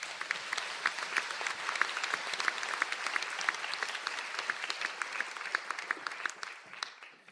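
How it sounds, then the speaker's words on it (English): Graduates at a Donegal conferring ceremony receive sustained applause from the audience: dense, steady clapping that fills the whole stretch evenly and tails off only at the very end, with no voices over it. "Can we have a round of applause,"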